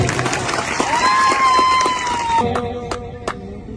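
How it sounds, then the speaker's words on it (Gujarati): Audience at a political speech by an Aam Aadmi Party leader in Chhota Udepur, Gujarat, clapping loudly in a dense burst of applause. It thins toward the end as a few cheers and a voice cut through. "બધા માટે એકવાર આપણે જોરદાર તાળીઓ પાડી"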